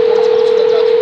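Steady telephone dial tone, loud and close, a single continuous pitch held for a second with no talking over it.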